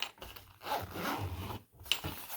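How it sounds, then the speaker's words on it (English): The zipper on a TEKTON Everybit tool kit case is pulled closed in a few short, close rasping runs with brief pauses between them, quiet and with no talk. "Wrap the zipper."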